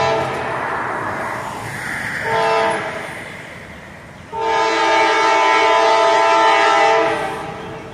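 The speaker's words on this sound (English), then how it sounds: "This looks like a intermodal train." An intermodal freight train led by AC44C6M and SD70A locomotives rumbles past Oakland Junction with a loud, steady roar while its multi-tone horn sounds a short blast, then a long sustained one.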